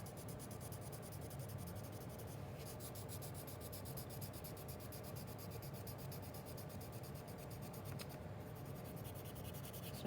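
A colored pencil is burnished across paper to shade a cityscape sky, making a soft, continuous scratchy rubbing heard close but faint over steady background hiss.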